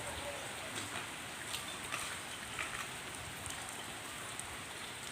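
Steady rain patters continuously, a dense, even hiss with occasional louder drops, fairly close and with no voices.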